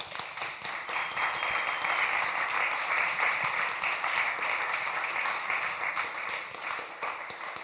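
An audience at a political discussion gives sustained applause, dense steady clapping that holds for several seconds and eases slightly at the end.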